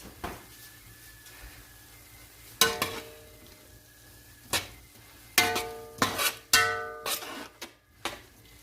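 Puerto Rican style peasant's rice sizzles in a pan while it is stirred, with a low frying hiss broken by several sharp scraping and clanking strokes of a utensil against the pan.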